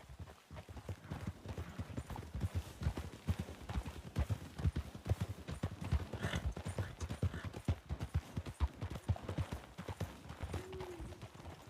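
Horse hooves clip-clop in a fast, steady rhythm in the video game RedM, close and continuous, with a faint whinny near the end.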